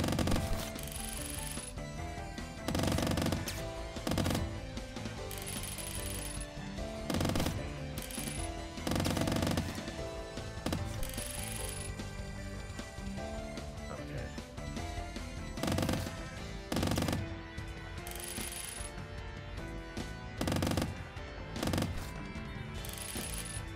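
Gunfire in the video game Squirrel With A Gun rattles in loud, rapid bursts of mechanical clicking shots, repeated volleys with brief gaps, close and dominant over game sounds with no speech.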